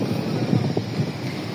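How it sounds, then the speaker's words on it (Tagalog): Strong wind near Souq Waqif, Qatar, roars and buffets the microphone in a continuous, loud rumble with gusty bursts. "Sobrang lakas ng hangin, inano yung umbrella ko."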